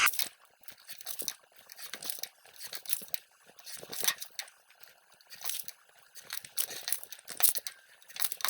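Scissors cut plastic canvas along a marker-traced outline, giving a close run of crisp, uneven crunching snips and crinkles with no talking.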